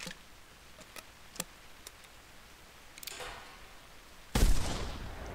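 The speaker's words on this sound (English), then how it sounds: "Now, watch what happens when I try this with buckshot." A buckshot gunshot in the hunting game theHunter Classic, one loud, sharp blast near the end after a few scattered clicks and ticks.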